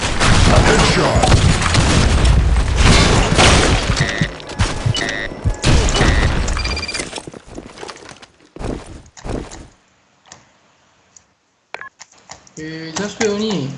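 In the online shooter BlackShot, a loud grenade blast and heavy gunfire crowd the first half amid game radio callouts, then the action thins to scattered shots and quiet gaps, with a player speaking over it.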